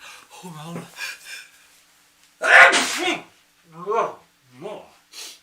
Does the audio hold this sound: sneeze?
yes